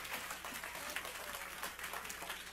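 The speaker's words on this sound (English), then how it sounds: "Give the Lord a mighty hand clap of praise." Church congregation claps hands in praise during a sermon, a faint, busy patter of many hands heard from a distance, briefly and alone.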